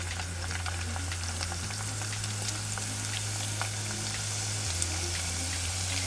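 Disney Parks-style churro tots fry in hot oil, giving off a steady, dense sizzle that stays loud and continuous throughout, with a low hum underneath and no voices.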